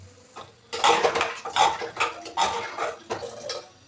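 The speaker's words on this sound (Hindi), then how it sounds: "इसमें डाल दूँगी पानी।" Water splashes into a pan of pea and mushroom curry cooking in a home kitchen, in a few uneven gushes over about three seconds, with metal pot clatter and close, fairly loud spoon clinks.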